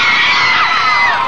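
A crowd at a 1999 men's modeling show cheers and whoops loudly, with high excited shouts and screams forming a continuous roar over the brief moment.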